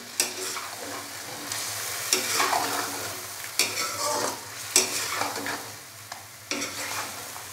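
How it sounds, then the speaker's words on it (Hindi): Chicken with tomato paste is stirred and fried in a karahi, a steady sizzle broken by repeated spoon scrapes and clanks against the metal pan at close range. "तो अभी मैं इसके अंदर टमाटर का पेस्ट डाल दूँगा। अच्छे से हम इसको मिक्स करेंगे।"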